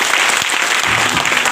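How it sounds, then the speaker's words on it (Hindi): A brief burst of loud, close audience applause at a motivational seminar, dense clapping filling the whole short stretch with a faint murmur of crowd voices underneath. "सो तालियां अच्छी हो सकती है उससे."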